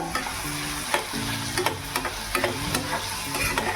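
Onion softens while frying in a pan for methi bhaji, an even close sizzle broken by repeated spatula scrapes and taps in an irregular rhythm.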